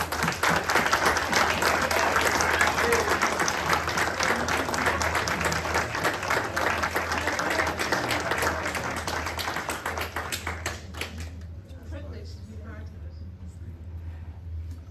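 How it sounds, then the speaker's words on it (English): A steady round of applause from a lunch audience at a greyhound derby draw fills the room for about eleven seconds under crowd murmur, then stops abruptly, leaving a quiet hum. "I would like everybody to make a round of applause for you."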